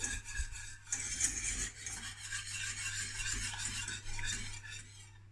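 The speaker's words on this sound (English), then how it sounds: "So here we go. More mixing." A utensil stirs a thick sauce in a pan for a vegetable lasagna, with quiet repeated scraping and rubbing strokes against the pan, faint and close, with no talk.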